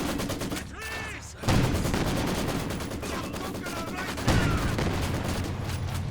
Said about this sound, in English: Machine gun doing some really good damage.